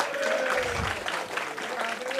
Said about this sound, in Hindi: बहुत बजा दो मेरे लिए भी ताली भाई